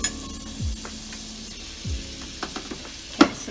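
Butter hits a preheated pan and sizzles steadily, a close frying hiss with a few scraping stirs and small clicks of utensils against the pan.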